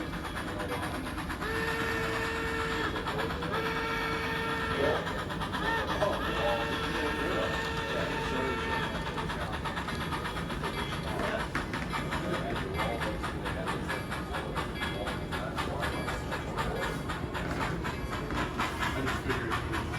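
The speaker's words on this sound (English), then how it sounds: "With our train reassembled, here we are pulling out through the camp again" A model train pulls out through a camp on a Civil War layout, giving a continuous rumbling clatter with a hiss and a short series of whistle-like tones early on, while people talk over it.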